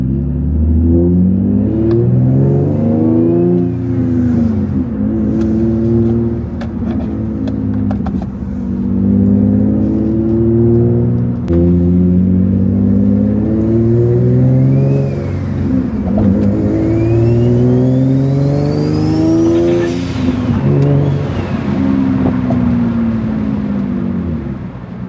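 A single turbo Nissan G35 coupe drives along, its engine loud and close with repeated rising and falling revs through gear changes and turbo whooshes, with no voices.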